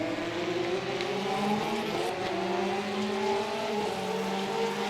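Race car engines from the Le Mans Ultimate racing game drone steadily and loudly throughout, with layered harmonic tones rising and shifting as several cars accelerate together, no voices over it.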